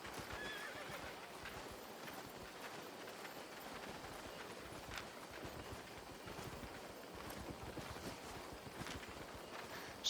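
Hooves of the Legendary Founder's Horse mount in the video game Albion Online clip-clop in a steady, quiet rhythm over a faint windy ambience, with a neigh sounding out amid the trotting.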